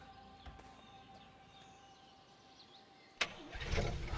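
Car engine starting in the video game A Way Out, a sudden loud crank and catch near the end that grows into a rough running rumble after faint ambient game sounds.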